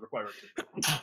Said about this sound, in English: Oh, excuse me, I'm full of sneezes.